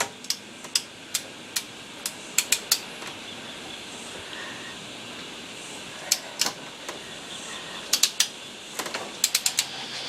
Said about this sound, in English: let's get this nut undone